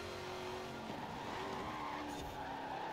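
Van engine racing in a video game, a faint continuous engine drone with shifting pitch and tyre skidding noise, steady throughout with no speech.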